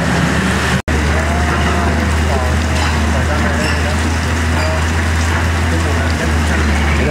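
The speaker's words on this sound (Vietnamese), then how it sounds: "Trời đang mưa to lắm ạ." Heavy rain pours during a river rescue near the Phong Chau bridge in Phu Tho, a loud, dense, continuous roar with a low engine-like hum beneath and a brief dropout near the start.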